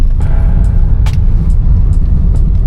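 Steady road traffic near Paco Mall in Manila, slowed by what looks like a collision: a continuous low rumble of car and bus engines with occasional brief hisses, close and loud, no talk.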